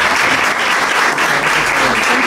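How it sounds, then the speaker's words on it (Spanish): Strong, full applause from an audience at a book presentation, a dense continuous wash of clapping at a steady level, close and loud throughout, with no speech over it. "Así que le damos un fuerte aplauso a los tres y agradecerles."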